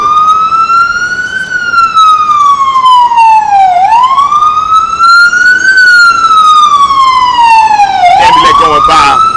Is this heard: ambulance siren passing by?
yes